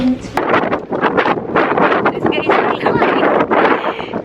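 Strong wind buffets the microphone outdoors in a steady, loud roar of gusts, with people talking over it.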